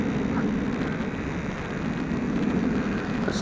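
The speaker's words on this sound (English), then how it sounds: "Boy, it still sounds like a jet, don't it?" A WLToys F959 Sky King RC plane flies overhead with a steady, broadband jet-like whoosh, continuous and fairly loud throughout, with light wind noise on the microphone.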